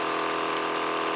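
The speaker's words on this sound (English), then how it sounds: "You'll have to excuse the sound of my very loud water pump." A very loud water pump in a van drives a steady gush of hot water into a washing machine, a constant close hiss and rush with no pauses.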